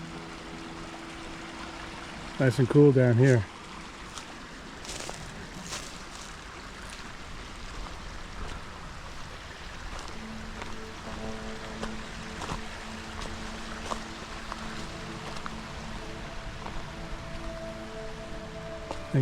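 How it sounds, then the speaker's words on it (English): Two forest streams meet in Harriman State Park, producing a steady, moderately loud rush of flowing water that runs throughout, with a brief burst of nearby activity early on and a short spoken remark. "this is where the two streams meet. So a little more powerful here,"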